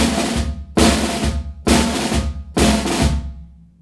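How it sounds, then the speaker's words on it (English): Snare drum buzz rolls played as seven-stroke rolls accenting beats 2 and 4, four loud, evenly spaced bursts of dense crackling buzz that each decay quickly, heard alone with no talking. "I'm doing a buzz roll just to emphasise beats 2 and 4"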